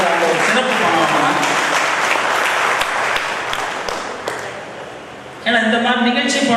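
An audience applauds in a hall at a press meet on nature and agriculture awareness, a dense, sustained clapping throughout, with a voice speaking over the applause near the end.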